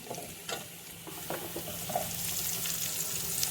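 Garlic and small onions frying in a pan give a quiet, even sizzle, with a few soft stirring scrapes early on.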